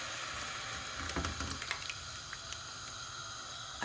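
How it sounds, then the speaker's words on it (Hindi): Water heating in a cooking pot comes to the boil, a soft bubbling hiss with a few light pops and clinks early on, close and fairly quiet, with no voices. "अब पानी में उबाल आना स्टार्ट हो गया"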